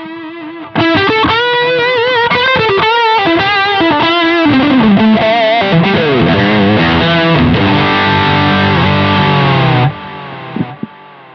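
A heavily distorted electric guitar played through a Fender Pugilist Distortion and Mirror Image Delay plays a sustained riff with echoing repeats trailing behind the notes, loud and full, then cuts off abruptly.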